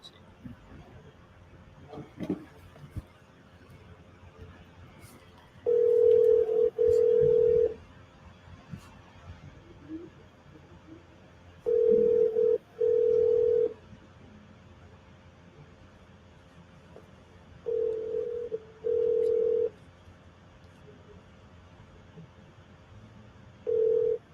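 Outgoing phone call ringing through to a real estate agent, loud paired ring-back tones repeating over and over with quiet gaps between them and faint speech underneath.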